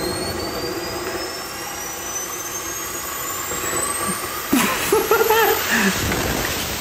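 A rocket engine strapped to a skateboard roars in a steady, loud hiss-like blast with a rising whine, growing rougher and louder near the end, with no talking over it.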